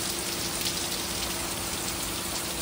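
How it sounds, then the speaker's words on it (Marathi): Heavy rain pours down steadily as a dense, continuous hiss and patter, loud and close, with no voices. "इकडे जोरदार पाऊस आलाय."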